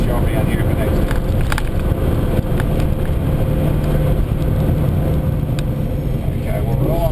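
Holden VR Commodore with a 383 stroker V8 running steadily at low revs on the road, with a loud, continuous deep rumble and drone from close by and little change in pitch throughout.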